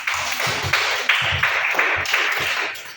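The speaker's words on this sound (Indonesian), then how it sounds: "tepuk tangan dulu" A classroom of students clapping together at the teacher's prompt in a lesson on fractions, a moderately loud run of uneven claps with a steady bright wash, no talk over it.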